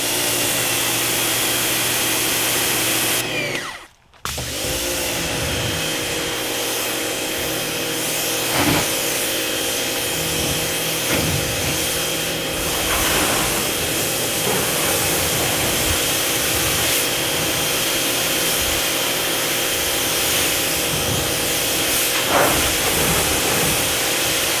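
A YerYork portable high-pressure washer runs with a loud, constant hiss of spraying water over its motor hum, after one brief dropout early on, and keeps going steadily to the end.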